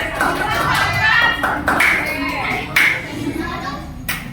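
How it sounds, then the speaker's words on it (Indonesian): Steady applause from a group in a classroom fills the room, with scattered individual claps and children's voices chattering over it. "tepuk tangan yang meriah untuk kelompok berapa?"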